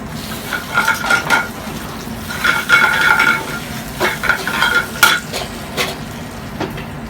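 Spinach sautéing in olive oil with garlic in a pan, a steady low sizzle under repeated clanking stirs and scrapes of a utensil against the pan in irregular bursts, close and fairly loud.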